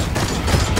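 Rapid, dense bursts of gunfire from a weapon in the video game Deep Rock Galactic, loud and continuous throughout the brief moment.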